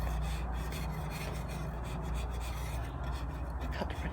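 A forged drawknife made from a leaf spring shaves wood with a steady, close rasping scrape that runs continuously without pauses, and no one talks over it.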